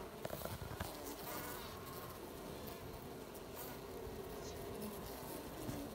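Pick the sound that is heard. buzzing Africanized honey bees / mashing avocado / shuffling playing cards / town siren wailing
buzzing Africanized honey bees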